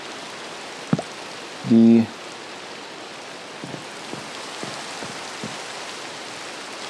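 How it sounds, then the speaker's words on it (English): Steady soft rain hiss from the Minecraft video game fills the scene at low level, with a brief tonal game blip early on and a few faint ticks scattered through. "it's raining, as you can hear"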